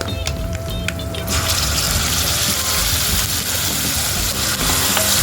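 Tomato chutney with chilli tipped into a hot pan of sizzling curry leaves, a loud dense frying hiss with stirring scrapes that swells as the chutney lands and keeps crackling steadily.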